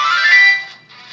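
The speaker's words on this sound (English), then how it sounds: "literally any sound this phone makes is pretty much a Zelda sound now" A Zelda video game jingle playing as a phone alarm ringtone on a jailbroken metal iPhone 4, a bright electronic chime phrase that fades out, then a second short tone starts, clear and close with no voices.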